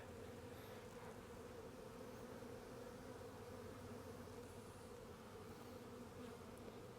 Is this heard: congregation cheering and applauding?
no